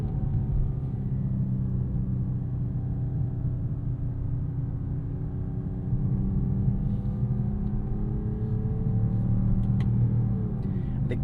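A 2026 Mercedes-AMG E53 wagon's 604 hp inline-six runs in Sport Plus with manual gear changes. A steady, close, droning engine rumble holds under the cabin, with slowly sliding tones as revs shift, and no talking.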